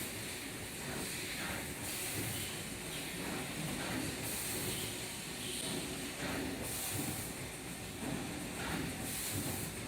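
An automatic toast bread slicing and packaging machine runs steadily, a dense continuous mechanical hiss and whir with rhythmic pulses as slicing and bag-sealing units cycle, loud and close with no pauses.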